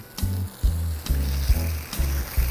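Shrimp fry in a pan with a continuous close sizzle, broken by soft rhythmic thumps roughly every half second.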